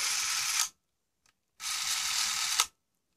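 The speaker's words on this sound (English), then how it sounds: "you hear that noise. That means that the film winder is winding the film." Film winder of a 1960s Canon Auto Zoom 518 Super 8 camera whirring in two close, steady bursts of about a second each, separated by a short silence, with no talk.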